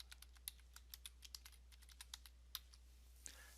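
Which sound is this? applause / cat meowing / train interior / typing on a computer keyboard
typing on a computer keyboard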